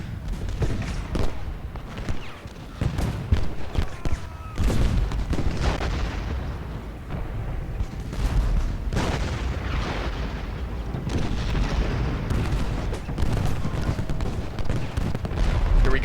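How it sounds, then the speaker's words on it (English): Enemy artillery fire in the Civil War strategy game Ultimate General Gettysburg, set at Round Top: repeated heavy booms and rumbling volleys keep going throughout, loud and dense, with musket fire mixed in. "Just enemy artillery fire is just pounding us."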